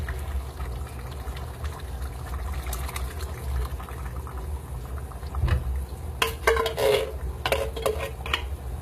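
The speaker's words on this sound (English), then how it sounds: "now I'm going to add the beans to it" Beans being tipped into a pot of bacon, beef and pork chili, faint clinks of a spoon and metal cookware with soft wet stirring over a low steady background hum.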